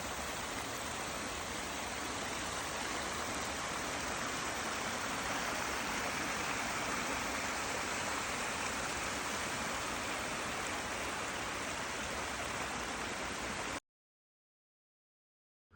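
A waterfall on the East Bowmans Island Trail in Georgia cascades down a ravine, giving a steady, dense, full rush of falling water that holds for about fourteen seconds and then cuts off.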